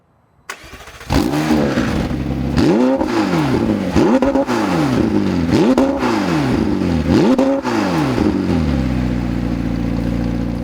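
A McLaren 750S sports car engine revs hard in repeated bursts through its P1-inspired exhaust, its pitch rising and falling about five times, loud and close, ending in a steady idle.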